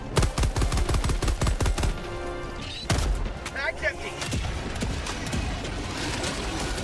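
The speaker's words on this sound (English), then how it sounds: "Come on, autocannon, turn around." An autocannon sentry in Helldivers 2 pounds out rapid, evenly spaced heavy shots in a loud burst, followed by a scattered exchange of further gunfire and explosions. Players talk over the action.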